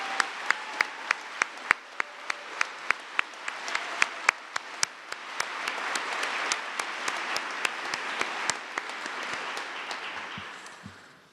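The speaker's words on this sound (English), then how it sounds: "Can you give another set of applause to the parents and the coaches and your teachers?" Steady applause from an audience at a mock trial state finals event, with sharp individual claps standing out over a continuous patter that swells and then fades near the end, moderately distant and without speech.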